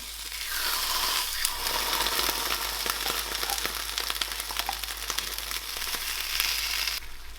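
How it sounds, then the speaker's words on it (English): Steady sizzling of refried beans frying in a hot pan, with faint crackles and pops throughout, close by and continuous. "Let those beans hit the bottom of that frying pan and really just warm up"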